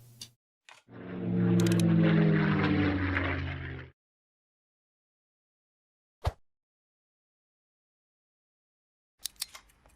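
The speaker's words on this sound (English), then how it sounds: "We could just bomb his bombers while they're on the airstrip still." A bomber aircraft attack in the WWII card game KARDS, a single roaring engine-and-explosion burst lasting about three seconds, followed by silence and a couple of short sharp effect clicks.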